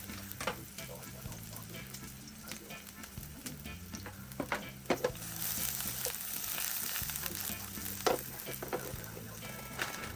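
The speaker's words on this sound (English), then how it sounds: "For my vegetables, you're going to add oil to skillet pan. I'm adding some scallion and some scallion whites. Getting a little saute on there." Scallions and scallion whites sautéing in oil in a skillet, a close crackling sizzle with scattered clicks and stirring scrapes that grows denser partway through, with no talking.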